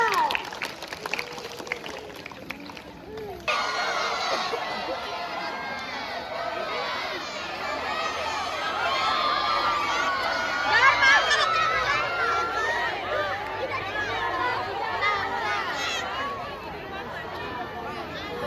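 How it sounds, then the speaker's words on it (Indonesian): An audience of schoolchildren at a school talk applauding and cheering, a sustained noisy crowd swell of clapping mixed with shouting and chatter that carries on throughout. "kasih aplaus ya semuanya"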